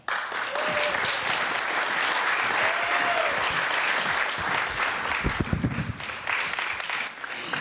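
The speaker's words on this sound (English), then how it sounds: "Round of applause for them." An audience at a live poetry and music performance applauds in a full, sustained roar of clapping, with scattered cheers and a few sharper nearby claps. Voices rise faintly through it.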